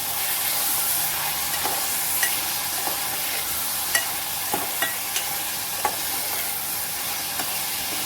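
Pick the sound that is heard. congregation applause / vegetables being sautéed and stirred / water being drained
vegetables being sautéed and stirred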